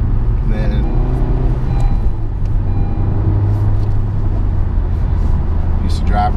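A Honda Civic Type R's engine drones steadily from inside the cabin, a constant low rumble with someone talking loudly over it.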